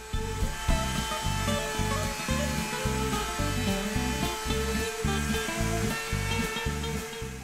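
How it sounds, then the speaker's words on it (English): A wood router cuts a 1/4 inch round-over edge along wooden slats of an outdoor park bench, a steady high whine with repeated rhythmic surges as each pass is made, loud and close with no talking. "I used my router to add a 1/4 inch round over to all the slats to make it more comfortable to sit on."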